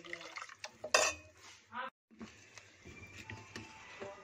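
A spoon stirs kadhi in a metal pot during home cooking, giving scattered scraping clinks and knocks against the pot, with a brief louder clatter near the start and a short pause midway.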